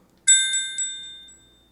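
A notification bell sound effect rings three quick bright metallic dings in succession, clean and alone, the last tone decaying slowly into silence.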